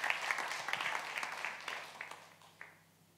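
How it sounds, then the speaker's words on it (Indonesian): Church congregation applauding during a Sunday worship service, a dense patter of clapping with sharp claps that fades toward the end. "Tepuk tangan buat Roh Kudus"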